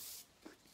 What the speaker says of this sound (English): We're gonna do our little setting spray.